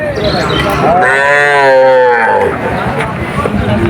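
A single long, deep moo from a Sahiwal calf rises and fades over a busy background of crowd chatter and market noise at the Churighata cattle market in Jessore, Bangladesh.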